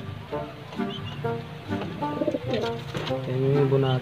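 Pigeons in a loft coo repeatedly in soft, throaty, rolling calls, several overlapping and close by.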